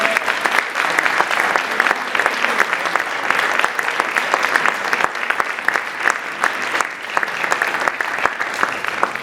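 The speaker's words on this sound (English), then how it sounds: "So if you would, let's give them a round of applause." A university audience applauding at an event introducing a new dean, sustained clapping from many hands with a crisp, busy texture that stays steady throughout.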